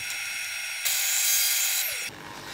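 Table saw blade spinning through an old hardwood drawer front while cutting a spline, a steady high-pitched whine that rises louder for about a second mid-cut, then drops back to the free-running hum.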